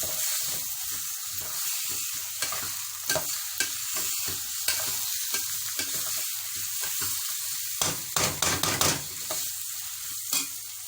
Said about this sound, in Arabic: البصله خدت لون اصفر خفيف قوي كده، هنزل عليها اللحمه